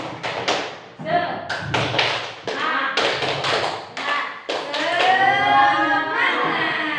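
Several people at a school gathering clap together in a quick rhythmic pattern, loud and close, with voices mixed in between the bursts.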